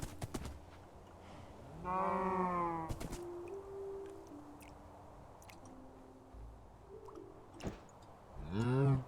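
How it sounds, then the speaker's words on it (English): Cows moo in a video game, likely Minecraft, with a few close, drawn-out lows plus squishy, clicky game noises in between. "Hello, moo cows."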